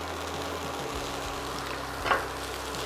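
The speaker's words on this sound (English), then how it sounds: "to finish the steak in a fry pan" A steak finishing in a fry pan with butter sizzles as a dense, continuous hiss close by, with one brief scrape or clatter of the pan partway through and no talking.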